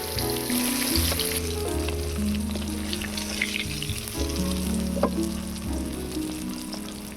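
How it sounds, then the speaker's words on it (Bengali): Pangas and tengra fish sizzle and crackle steadily in hot oil, a loud, continuous frying sound with no voices. "আবারও বাকি 4 পিস মাছ ভেজে নেব।"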